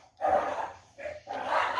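A dog barks in two or three short, moderately close bursts separated by brief pauses, with no talk over it.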